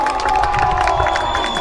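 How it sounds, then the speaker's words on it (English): A stadium crowd at a men's Australian rules football match cheers loudly after a tackle, a steady roar of shouting voices filling the short moment. "Crowd going wild for the tackle"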